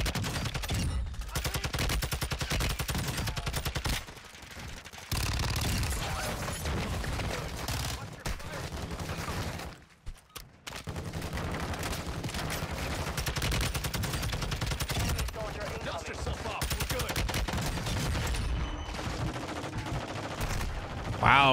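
Rapid video-game gunfire, a weapon fitted with a red dot sight shooting through cover, comes in dense, loud bursts and sustained volleys across the whole stretch, with only brief pauses, and voices occasionally underneath.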